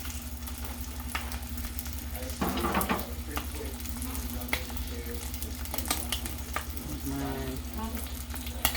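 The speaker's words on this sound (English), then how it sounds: "Let me turn my bacon over." Bacon sizzling steadily in a pan at breakfast, a constant frying crackle over a low hum with occasional utensil clinks and scrapes.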